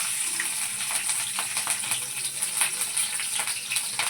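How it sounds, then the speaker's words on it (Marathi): Green chillies frying in hot oil for sago khichdi, a continuous close sizzle with crackling pops scattered throughout, no voices. "तेल छान तापलं ना की मग तेलात अशी मिरची टाकायची"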